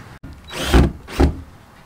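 A drill gun drives screws into bamboo laid over lauhala matting for a tiki bar ceiling, giving two short, close whirring bursts after a sharp knock.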